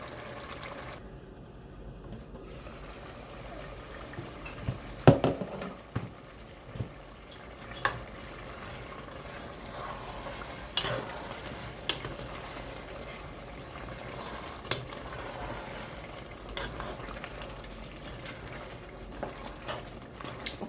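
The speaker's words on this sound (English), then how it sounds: "I'm going to allow the egusi to cook a little more" Egusi soup bubbles and simmers in a pot under a soft, continuous low hiss, with occasional spoon knocks and stirring scrapes scattered through a long, fairly quiet stretch.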